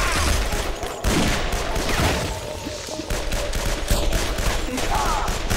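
A ray gun firing in a chaotic video game versus match, with dense, continuous bursts of weapon fire and blasts layered over one another at steady loudness.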